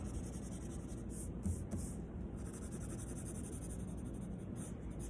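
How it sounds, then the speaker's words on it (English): A pencil shades on paper in close, steady strokes, a soft continuous scratching over a faint background hiss. "rotate your pencil or rotate your paper and go back the opposite direction to help blend and smooth some of that detail out"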